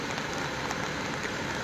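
Steady rain falls in fog around a radio transmission tower on fire in Cascavel, an even, dense hiss with no pauses and no voices.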